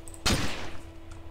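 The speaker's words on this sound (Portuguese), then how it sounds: "Olha só os tiros!" A single loud burst of gunfire in the DayZ video game, one sharp crack followed by a short decaying echo, heard over a quiet background hum.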